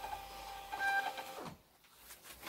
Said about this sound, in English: Got my Rollo printer over here.